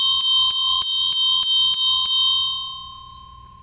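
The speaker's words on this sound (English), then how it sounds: "not a very great bell" Close, bright strikes on an older ornate bell ring out in quick succession, roughly eight metallic hits with short decay and little sustain, thinning and softening toward the end, with no voice.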